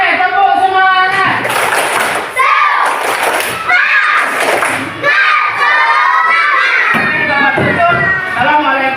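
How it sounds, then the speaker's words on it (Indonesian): A classroom of children clapping and shouting with excitement, loud high voices cheering in bursts over rhythmic claps, close and lively throughout. "Oke, tepuk semuanya."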